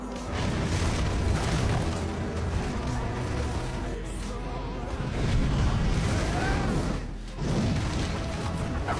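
Cannon fire booming through a film battle scene, dense loud rumbling blasts and crashes that build in waves, with a narrating voice partly under the din.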